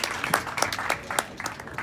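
Audience applause at a music industry talk, a brisk, crowded patter of clapping with a few louder individual claps popping through, heard fairly close.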